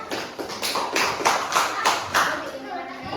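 A school class gives applause to a student group after its project presentation. Several hands clap in a loose, uneven rhythm of a few seconds, while a voice talks over the clapping.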